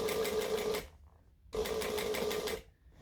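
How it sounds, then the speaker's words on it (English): A sewing machine stitching a bag slowly runs in two short bursts of steady whirring, close and clear, separated by a brief pause and ending in quiet. "We're going to go nice and slowly, taking the clips off as we go, making sure we're not stitching anything we're not meant to."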